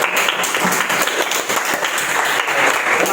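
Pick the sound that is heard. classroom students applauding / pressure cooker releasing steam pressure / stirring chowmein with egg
classroom students applauding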